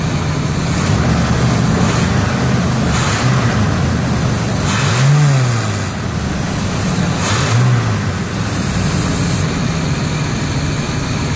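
An RV engine rises in pitch twice as the throttle is pressed and released, revving up and falling back over a steady idle rumble, close and fairly loud with no talking.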